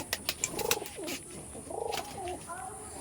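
Pakistani teddy pigeons coo close by in soft, throaty, repeated bursts, with a few light clicks and rustles at the start.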